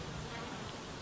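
Flies buzz faintly in a brief, soft drone against quiet outdoor air on the Pennine Way.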